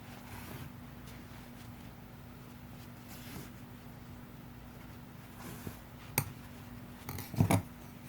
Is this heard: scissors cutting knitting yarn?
yes